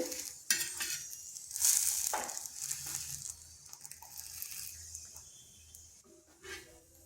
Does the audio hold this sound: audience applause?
no